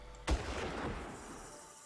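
A single sharp gunshot in the video game Far Cry cracks close and loud, then a long rolling echo tails away over a low background rumble.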